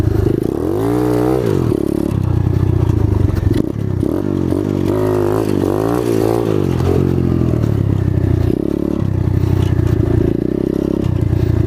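Apollo 250cc motorcycle ridden on a loose, low-grip surface with the rear tire sliding, engine revving up and down in repeated bursts amid scraping and clattering noise, close and loud.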